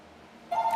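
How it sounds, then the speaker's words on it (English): A telephone sounds during a Miami Vice-themed race at Homestead, a short electronic tone that starts abruptly halfway through and holds steady as a clear beep. It comes in after near-silence and no voices are heard. "So I apologize for the phone ringing."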